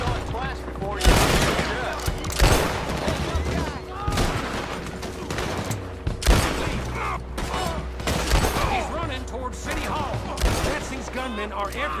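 Gunfire from gunmen in Red Dead Online, repeated sharp shots and bursts in irregular clusters with mechanical clicks between, loud and close, with voices talking over the shooting.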